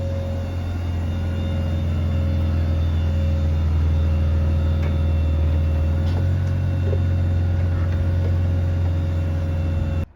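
A BMW 530i drives along with a steady, loud low cabin rumble and road drone, a faint constant whine riding on top, continuing without pause until a sudden cutoff.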